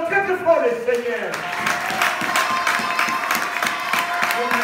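Congregation at a church service applauding and cheering, a dense wash of clapping and voices after a brief stretch of talk, steady and fairly loud throughout.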